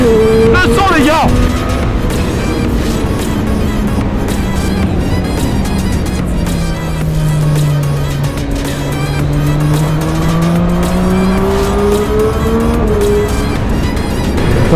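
A three-cylinder street motorcycle revs hard while riding on a small road, its loud engine note climbing and falling in pitch throughout, with a brief rising sweep at the start and a continuous close-up drone under faint talk.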